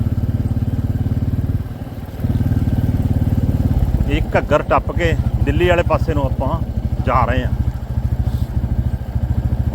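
Motorcycle riding along the Delhi-Katra expressway near the Ghaggar bridge, a steady close engine drone with wind rumble throughout, under someone talking.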